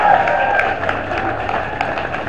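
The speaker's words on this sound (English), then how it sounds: "So if we can give a round of applause for our volunteers" An audience claps and cheers for event volunteers at a 30th-anniversary luau with a Samoan taupou performance, a steady crowd wash of applause filling the space with some voices mixed in.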